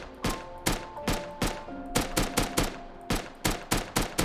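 Rapid semi-automatic gunfire from an M39 rifle in the game Rust, about a dozen sharp close shots in an uneven, quick rhythm with no talking.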